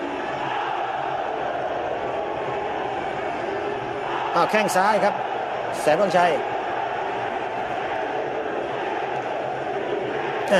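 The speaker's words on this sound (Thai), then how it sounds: "เสียงเชียร์ค่อนข้างจะดังครับ" A crowd at a Muay Thai bout between Phettaksin and Saenwangchai cheers steadily in the background, swelling into two short louder bursts, while a commentator talks excitedly over it.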